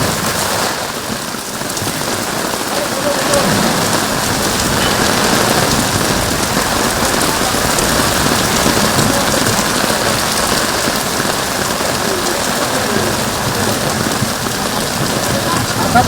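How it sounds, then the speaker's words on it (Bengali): Heavy rain pours steadily over the city of Kolkata, a dense, loud, unbroken hiss of drops hitting surfaces that holds constant throughout. "প্রবল বৃষ্টি শুরু হয়েছে কলকাতা সহ 2-24 পরগনায়।"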